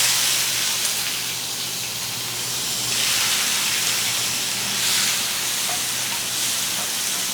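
Onions sizzle in hot oil with fennel seeds, cinnamon and cloves for a mutton eral fry, giving a steady, close, rain-like frying hiss that swells and eases slightly without pause.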